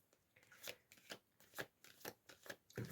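Tarot cards riffled and shuffled by hand in quick repeated bursts, close and fairly quiet, each burst a crisp papery flutter with short pauses between, no voices.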